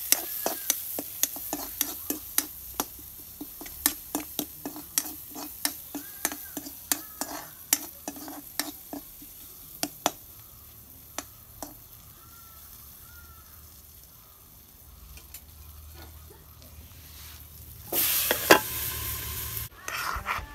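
Curry with turmeric and salt, cooked with fish and potato, stirred in a sizzling pan, a spoon scraping and clacking in a steady rhythm over a constant fry hiss, a louder burst of sizzle near the end.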